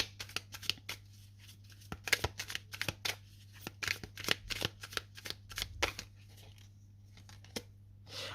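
Tarot cards are handled and laid down on a table in a quick run of crisp snaps and slides, close and fairly quiet, with a steady low hum underneath.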